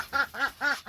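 Three harsh, raspy quacks from a Muscovy duck in quick succession, close by and fairly loud, with brief pauses between each call.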